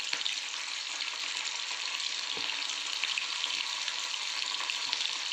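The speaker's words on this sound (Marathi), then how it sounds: "फ्रेंड्स, आपलं तेल तापलेलं आहे। आता मी शेंगा त्यात सोडतो।" Drumsticks deep frying in hot oil in a home kitchen, a steady bright sizzle and crackle that holds evenly throughout, close and alone with no talking.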